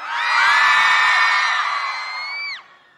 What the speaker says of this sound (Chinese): 让我听到你们尖叫声吧